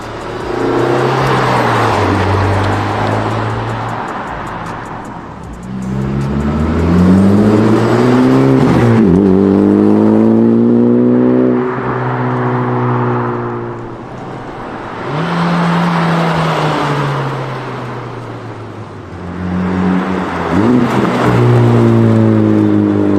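A 2020 Honda Civic Type R fitted with a new MBRP exhaust revving repeatedly, loud engine surges that climb and fall in several long pulls with a pronounced exhaust roar, close by and without any talking.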